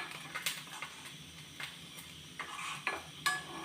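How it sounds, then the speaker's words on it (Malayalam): Fried coconut is scooped out of a pan for wheat payasam, giving scattered metallic scrapes and clinks of a spoon against the pan over faint background hiss, with no talk. "വറുത്ത് വന്നിട്ടുണ്ട് നമുക്കത് കോരിയെടുക്കാം"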